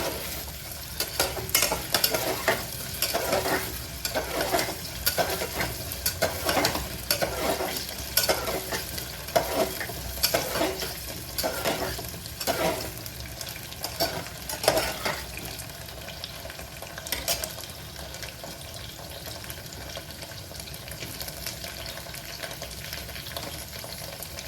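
Chayote squash and potato fry in a pressure cooker, giving a steady close sizzle with repeated scraping stirs through the first fifteen seconds, then a calmer continuous fry.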